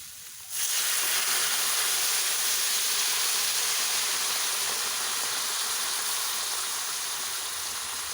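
Water poured into a hot pan of paneer curry, setting off a sudden loud burst of hissing steam and sizzle that starts abruptly and then holds steady, slowly easing, with no talk.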